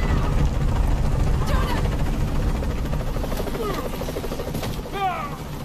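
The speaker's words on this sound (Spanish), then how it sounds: "Y eso que no me disparó el helicóptero" A helicopter in the video game Shadow of the Tomb Raider gives a continuous loud rotor drone throughout, with brief game effects layered over it.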